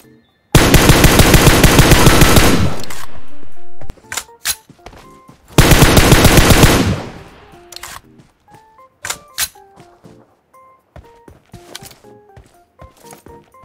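Automatic gunfire in the video game PUBG Mobile: two long, loud bursts of rapid shots, followed by scattered single shots and sharp clicks.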